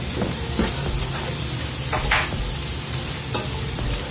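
Ginger and garlic fry in hot oil with chili powder and garam masala for a Thalappakatti beef biryani base, giving a steady close sizzle broken by several scraping stir strokes, with no voices.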